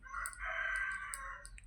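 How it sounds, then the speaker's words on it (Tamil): A rooster crows once, a loud, close, drawn-out call with a rising start and a sustained middle, set against faint background sounds. "சேவல் பையன்தான் கூப்பிட்டே இருக்கா"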